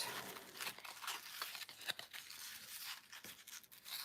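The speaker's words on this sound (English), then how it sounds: "you can put some tear and tape, which I'm going to do, just so it stays put" Tear-and-tape is pulled and ripped during papercraft on a wildflower concertina card, giving continuous faint crinkly tearing with repeated small rips over several seconds, close by and without talk.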